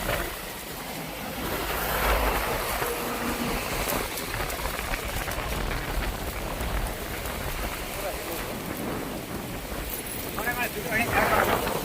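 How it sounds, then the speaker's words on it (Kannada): Strong wind buffets and roars across the microphone in gusty bursts, a rough continuous rush with a voice speaking beneath it. "ತುಂಬ ಗಾಳಿ ಐತಿ"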